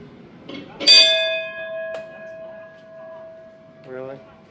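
A single loud bell strike rings the time of day, then hums in a long, fading tone. Voices talk briefly before and after the strike.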